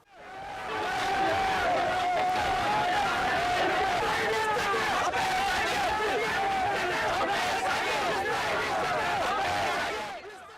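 Excited supporters cheer and chatter while welcoming a minister to a village opening ceremony, a dense, steady crowd hubbub with overlapping voices that holds throughout and fades at the end.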